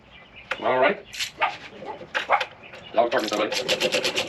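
A dog barks repeatedly amid clattering work noise in a garage during assembly of a Harbor Freight mechanics cart, with someone talking over the barks.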